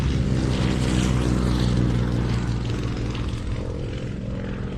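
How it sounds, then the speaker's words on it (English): Yak aircraft of an airshow formation team pass overhead with a loud, continuous propeller-engine drone that fades slightly toward the end. "And our yak formation team."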